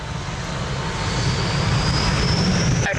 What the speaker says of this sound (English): Oh, nice roll and takeoff.